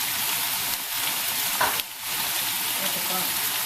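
Arroz valenciana fries in a pan with a steady, loud sizzle, broken partway through by a brief scrape of stirring before the hiss carries on evenly.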